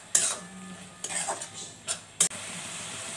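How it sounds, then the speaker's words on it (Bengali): Mustard paste and salt are stirred into powal chatu, a few sharp, close scraping strokes of a spoon against the vessel with brief gaps of soft hiss between, with no talking. "খুব ভালো করে সব কিছু মিশিয়ে দিই।"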